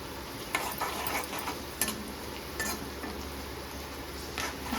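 Steady sizzling of spices tempering in hot oil, with a few soft clicks and stirring taps, close by and continuous, no voices.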